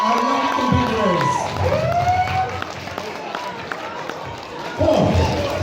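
At a Pocky eating contest at a convention in Ireland, a crowd whoops and cheers for the winner, with rising and falling shouts over a noisy hall and people talking throughout.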